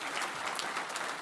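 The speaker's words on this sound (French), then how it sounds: "Je voudrais que vous vous fassiez un grand applaudissement" Audience at a Légumes de France vegetable growers' congress in 2023 breaking into applause, a brief, dense burst of many hands clapping at an even level.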